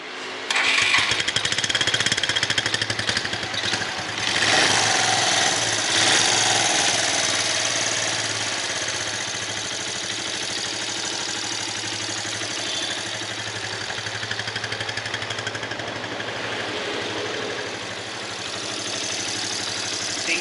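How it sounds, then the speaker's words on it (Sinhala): A Suzuki GS 125cc motorcycle engine runs steadily and fairly loud close by, a continuous mid-pitched throb with slight swells in the first few seconds, then settling into an even idle, with no talking. "ඉතින් ඔයගොල්ලන්ට එන්ජින් සවුන්ඩ් එක මම ආයෙත් පෙන්නන්නම්"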